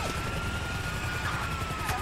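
Helicopter in Grand Theft Auto 5, a steady loud rotor thrum and engine drone filling the whole moment, close and continuous.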